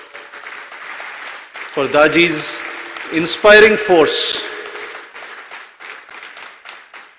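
An audience at the Global Spirituality Mahotsav at Kanha Shanti Vanam applauds Daji. Steady crowd clapping runs underneath a speaker's amplified voice, which talks over it in the middle.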